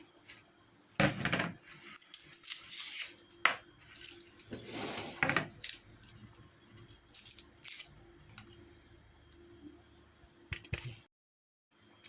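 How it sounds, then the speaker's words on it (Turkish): Irregular bursts of knife taps on a cutting board as garlic is chopped, some quick runs of chopping and some single knocks, close by, with quiet gaps between. "Şimdi bunun üzerine soğana sarımsaklarımı doğrayacağım"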